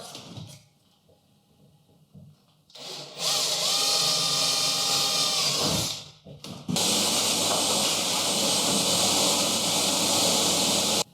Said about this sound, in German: Und jetzt bohre ich einfach da, wo ich den Sensor haben möchte, bohre ich hier einfach ein 8er Loch rein.